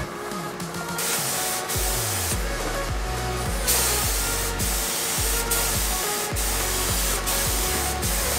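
Spray painting with an aerosol can: long loud hissing bursts fill the clip, with short breaks between sprays, alongside a rapid repeating low mechanical rattle and no talking.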